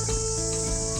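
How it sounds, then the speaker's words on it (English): Cicadas on the Queen Charlotte Track, under a fern canopy, keep up a steady, loud high-pitched buzz throughout with no pauses. "cicadas in the background."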